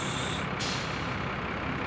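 A tour bus in a beach parking lot releases its air brake: a loud, close hiss of air filling the whole moment, a short burst near the start, with no talking.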